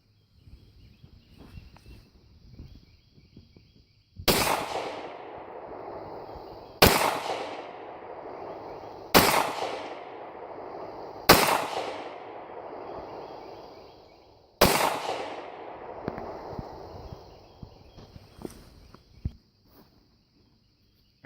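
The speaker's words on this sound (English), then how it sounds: "we'll probably let Kickstand run the two big guns" Five loud handgun shots at an outdoor shooting range, spaced a few seconds apart, each with a sharp crack and a long echoing tail, with faint insect chirping in the background.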